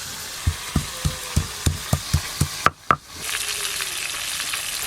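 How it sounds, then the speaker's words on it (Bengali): Fresh pond fish fry lightly in oil for a curry. About ten evenly spaced knocks of a spatula against the pan come first, then a close, steady sizzle swells as they stop. No one talks. "এই মাছগুলো ভাজা হয়ে গেল,"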